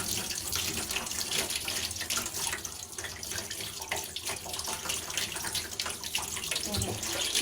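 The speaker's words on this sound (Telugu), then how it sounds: "అసలు నీళ్ళు కూడా మామూలుగా వాటర్ వైట్గా వచ్చేస్తున్నాయి" Tap water runs steadily into a sink while rubber is rinsed by hand, a continuous close splashing flow with small shifts as the hands move under the stream.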